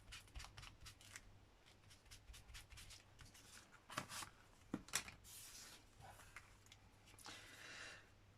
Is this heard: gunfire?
no